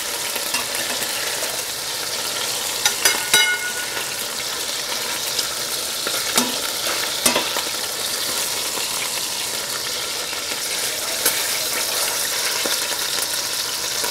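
Rabbit pieces frying in a pan for cacciatore, a continuous close sizzle with scattered utensil scrapes and taps over the steady crackle.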